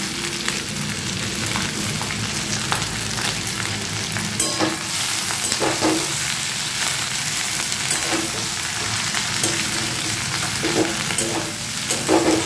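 Bread pieces tossed and stirred in a pan with chopped chilli while making bread bhelpuri, giving a steady sizzle with scattered scraping stir strokes throughout, no talking.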